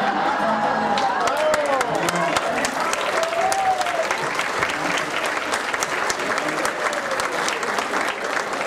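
Steady applause and crowd noise from an audience at a 10th-anniversary celebration in General Treviño, Mexico, fills the whole stretch at a constant loud level, with voices singing or calling over the clapping.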